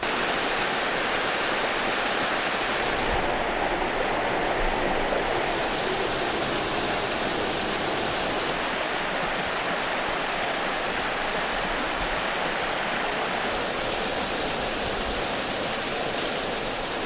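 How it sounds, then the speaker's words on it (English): River water flows in a steady, broadband rush at a spiritual retreat. It continues unbroken throughout and nobody speaks. "Let's go have a look at the river."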